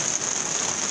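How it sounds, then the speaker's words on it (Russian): Heavy first spring rain drumming on a greenhouse, a dense, even hiss and patter with no pauses, loud and close. "Ух, дождище-то какой!"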